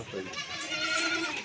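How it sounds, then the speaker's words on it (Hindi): A Rajanpuri goat bleats in one sustained, wavering call lasting over a second, close and clear, with no talk over it. "और ये माशाल्लाह 5 नंबर पे बकरी आ रही है"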